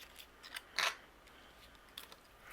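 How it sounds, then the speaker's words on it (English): Scissors trim away overhanging paper from a handmade holiday card, giving a few soft, close snips with one sharper crisp cut in the middle, set against quiet room background. "Anything that's overhanging, I'm going to trim away with my scissors."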